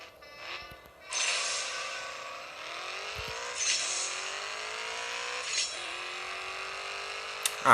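Engine roar of a drag race in the mobile game CSR 2, a steady revving drone with a few gear-shift surges and a sharp burst at the end; no talk.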